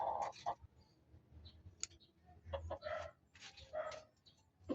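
A native hen in a backyard yard gives soft, scattered clucks in short bursts, with faint clicks and rustles between them and no talking.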